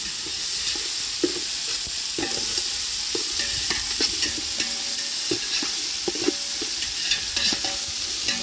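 Tomatoes being stirred into hot oil with mustard seeds in a pan, in a village kitchen; a steady sizzle runs throughout, with repeated scraping stirs of the spoon close by and no talking.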